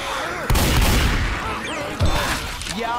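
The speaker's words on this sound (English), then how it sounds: "Y'all wanna stop shooting me?" Gunfire in Left 4 Dead 2 on a ghost house map, two heavy booming shots about a second and a half apart over a busy bed of game noise and chirping effects.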